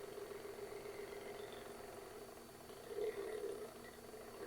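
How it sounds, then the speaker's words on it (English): A Sunnytech SC011 hot air Stirling engine runs under load with a faint, steady mechanical hum and light rattle, swelling briefly partway through before settling again. "It's slowing the motor down, or the engine down, when you put a load under it."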